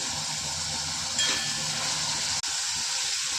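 Curry leaves, coriander and garlic paste sizzle in hot oil, a steady loud hiss that flares briefly and holds throughout.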